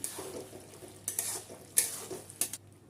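A spoon stirs softened vegetables, ridge gourd and potatoes, for Bengali shukto in a pan, giving a few scraping strokes over a faint simmering sizzle, close up with no talk.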